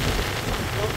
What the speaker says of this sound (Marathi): आणि पाऊस काय थांबवता नाव नाही.